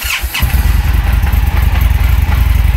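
A cold motorcycle engine fires up and settles into a loud, close, lumpy idle with a steady plop-plop pulse.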